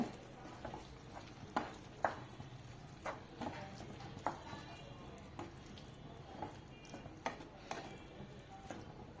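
Egg gravy with mashed eggs is stirred in a pan, with quiet scraping and occasional sharp taps of the spoon against the pan over a faint, steady background.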